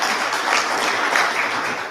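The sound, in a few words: audience applause for Precinct officers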